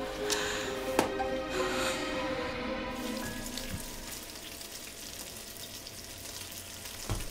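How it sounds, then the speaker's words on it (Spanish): Meat fries in a pan with a loud, continuous close sizzle and crackle, plus a few clinks of utensils and no talk. "Estoy friendo carne."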